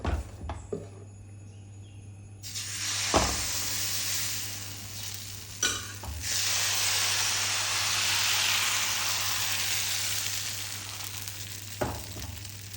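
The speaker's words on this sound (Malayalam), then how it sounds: "ചട്ടി നല്ലോണം ചൂടായ ശേഷമാണ് നമ്മൾ മാവ് ഒഴിച്ച് കൊടുക്കുന്നത്." Vellayappam rice batter poured into a well-heated pan sizzles in a steady, close frying hiss that begins a couple of seconds in and carries on, broken by a few sharp clinks of utensils, with a low hum underneath.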